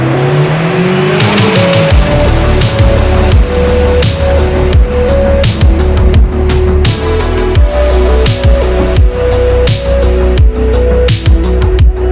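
A 1993 Ford Escort RS Cosworth on a test drive, its engine loud and close throughout, rising and falling through repeated gear changes with continuous revving and no talking.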